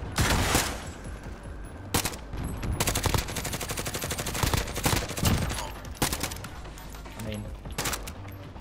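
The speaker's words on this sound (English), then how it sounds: "how many times are you gonna shoot this guy?" Rapid gunfire and bursts from the video game Call of Duty: Modern Warfare, loud and dense with repeated volleys and automatic fire, while a voice talks briefly over the shooting.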